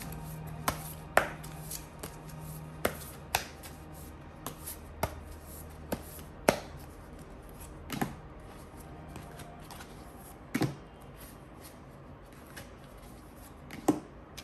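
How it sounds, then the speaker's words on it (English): Tarot cards shuffled by hand in a quiet room, a string of crisp irregular riffles and slaps spread across the stretch, fairly soft with no talking over them. "let's shuffle the cards"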